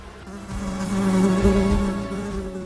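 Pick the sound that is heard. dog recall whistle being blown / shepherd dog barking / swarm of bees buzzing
swarm of bees buzzing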